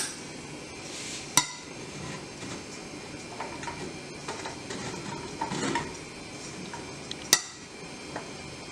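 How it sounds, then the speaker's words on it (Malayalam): A cooker used to bake an almond cake is shut with two sharp metallic clanks several seconds apart, close and crisp over faint kitchen background, with no talking. "നമുക്ക് കുക്കർ അടയ്ക്കാം."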